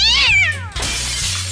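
A cat being given a bath meows loudly and close by: one drawn-out, falling meow, then a rougher, noisier cry.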